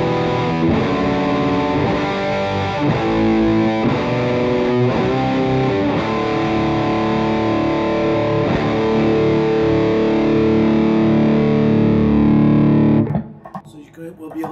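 Distorted electric guitar chords played through a cryogenically treated blue Dean Markley cable, strummed loud and sustained for about thirteen seconds before cutting off abruptly.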